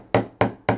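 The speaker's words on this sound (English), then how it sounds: "so I'm going to go ahead and use my chasing hammer" A chasing hammer strikes jewelry wire lightly to flatten and harden it, three crisp, evenly spaced metallic taps ringing close up with nothing else heard.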